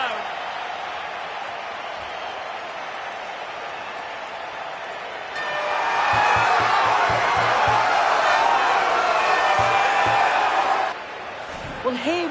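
A video game stadium crowd roars in FC 26 after a goal in a football match between Deportivo Alavés and Real Sociedad, a broad, steady wash of cheering that swells midway and then cuts back down, with commentary talk over it.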